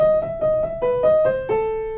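Piano playing the opening of Beethoven's Für Elise with a note wrongly left sharp, a short run of clear, evenly paced notes, close and moderately loud, with no talking.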